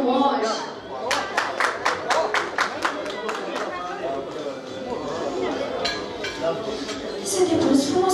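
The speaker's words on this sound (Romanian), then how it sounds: "Aplauze pentru Moș!" Applause and scattered clapping from guests at a baptism celebration in Budieni, Gorj, Romania, a run of sharp claps in the first seconds fading into crowd chatter and clinking dishes.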